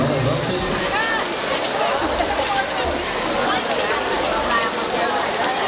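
Steady rain pours down at an outdoor wedding in Ameyaltepec, a dense, continuous patter on surfaces that stays loud and even throughout, with faint voices underneath.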